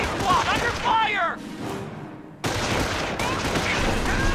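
Gunfire pops and crackles in a Company of Heroes: Tales of Valor fight, with voices heard early, a brief lull, then a renewed dense stretch of shooting.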